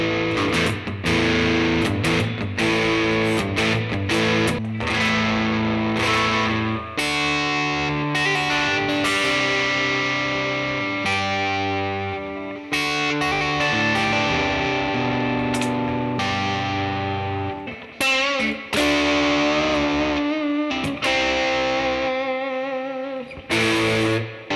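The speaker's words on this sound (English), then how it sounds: "We had a rat distortion," Electric guitar on a replica Gretsch White Falcon played through a Rat distortion pedal, loud sustained overdriven chords and riffs with brief pauses, no talking.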